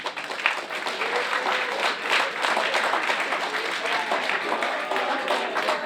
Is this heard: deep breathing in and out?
no